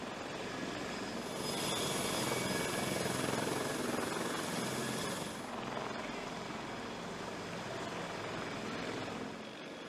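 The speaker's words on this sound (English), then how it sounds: "At the moment, the U.S. military's largest helicopter is the Sikorsky CH-53K King" Sikorsky CH-53K King Stallion heavy-lift military helicopter, a steady broad rotor and engine roar that swells louder in the middle and stays constant throughout, with no voices.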